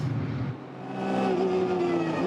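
A Porsche and an Audi race car battling for position at the Nürburgring in a 24-hour qualifying race, engines droning with a rising pitch as the cars pass close and loud.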